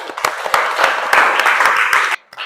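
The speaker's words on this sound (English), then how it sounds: "give applause for the first group and the second group" Classroom audience applauding student groups after their presentations, a steady burst of clapping from a small crowd that stops abruptly near the end, followed by a few stray claps.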